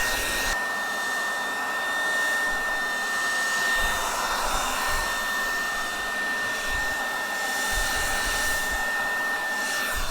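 A hair dryer gently heats filler on a foam LARP prop, blowing in a steady, close, even rush of air for the whole stretch with no talking.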